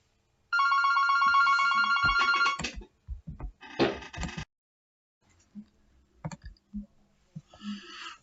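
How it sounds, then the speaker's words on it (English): A telephone rings loudly in a sustained electronic burst for about two seconds, followed by clicks and handling knocks as it is picked up, then quiet with faint soft knocks and a brief second ring-like tone at the end. "Adrian was ringing me from BCA at Blackbush to let me know the C1 VTR I bought wouldn't start"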